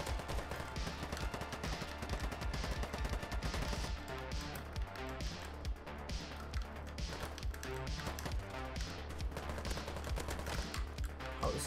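Sustained automatic fire from an AK-74M rifle in the shooter game Polygon, a dense continuous rattle of rapid shots that runs throughout at moderate level, with busy game noise around it.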